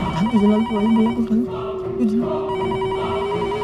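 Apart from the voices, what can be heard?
telephone ringing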